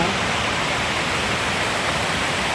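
Golden-tinted waterfall pouring over rocks, a steady, dense broadband roar of falling water that stays constant and close throughout, with no talk over it.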